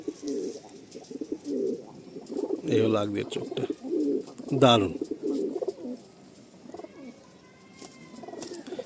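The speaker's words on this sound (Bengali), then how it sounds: "এই পায়রাগুলো দেখুন, একসঙ্গে অনেকগুলো আন্ধ্রা পায়রা আছে" Madrasi pigeons in a loft coo in soft, repeated low calls, close up, with someone talking over them and a few faint chirps in the background.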